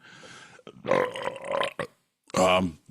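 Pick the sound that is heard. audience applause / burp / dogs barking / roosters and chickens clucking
burp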